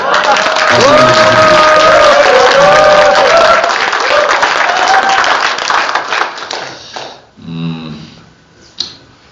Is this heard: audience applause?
yes